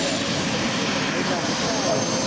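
A turbine engine on a 3-metre, 23-kilogram model aircraft roars continuously as a loud, steady whine with a broad hiss throughout.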